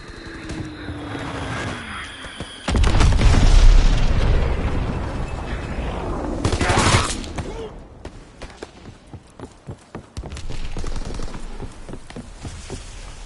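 Heavy explosions from Azon bombs in Call of Duty WW2 online play, one big booming blast followed by another rumbling detonation and scattered gunfire, with faint radio voices in the mix.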